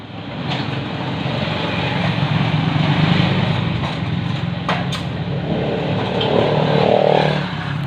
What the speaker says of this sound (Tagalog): Sira yung motor natin.